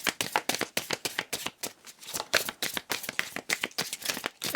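Oracle cards are shuffled by hand close up in a steady run of soft, rapid riffling flutters and slaps, repeated with a brisk rhythm and no voice over it.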